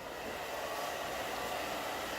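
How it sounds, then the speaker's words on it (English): A blow dryer runs steadily while drying a coaster, a loud, continuous airy whoosh with no breaks or spoken words. "And we're just going to use our blow dryer and dry it up."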